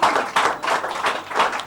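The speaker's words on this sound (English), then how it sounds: "we can have a round of applause for that" Round of applause from an audience at a press event unveiling a Society magazine issue with singers Kanika Kapoor, Shalmali Kholgade and Harshdeep Kaur, steady clapping in repeated swells, fairly loud and close, no talking over it.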